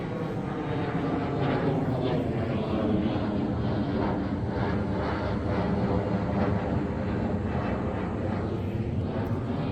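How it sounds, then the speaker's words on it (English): An airplane drones overhead, a steady broad roar that holds at an even, moderate level for several seconds with no one talking. "Y'all ever look at a plane and wonder where they're going"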